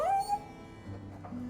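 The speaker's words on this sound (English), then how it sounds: "I like the doggy." Dog whimpering in the fantasy role-playing game Dragon Age II: a brief high whine that slides upward and trails off, followed by low game ambience, fairly quiet and with no talking.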